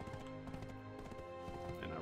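Steady clip-clop of a horse's hooves as a mount is ridden in Black Desert Online, rhythmic and continuous beneath game music and ambient sound.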